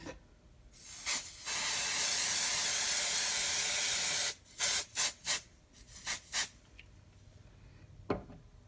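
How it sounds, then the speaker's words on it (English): A steady hissing spray of 505 temporary adhesive onto embroidery stabilizer lasting about three seconds, followed by several short sharp bursts of spray, close and loud with no talking. "I am going to spray the stabilizer with some 505 temporary adhesive"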